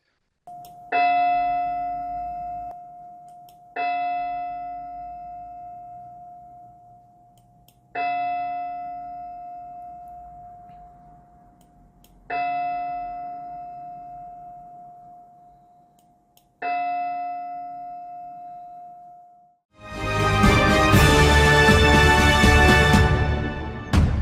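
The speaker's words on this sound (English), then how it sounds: "10 bell salute" Ten bell salute struck as slow, evenly spaced single bell tones, each ringing out and decaying before the next, five strikes heard, followed by a burst of loud music.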